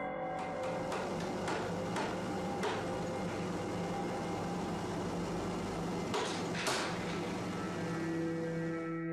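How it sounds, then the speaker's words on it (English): Blinds hanging on an indoor door rattle and tap in quick bursts, a cluster of clicks early on and another near the end, over a loud, constant background hum. "The door blinds open rapidly, then close just as rapidly."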